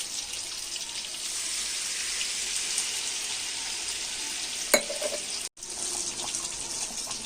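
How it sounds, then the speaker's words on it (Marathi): Fish coated in masala fries in a pan, giving a soft, continuous hissing sizzle at low volume, broken by a single sharp clink near the end, with no talking. "इकडे मच्छी फ्राय होते, हे बघू शकता"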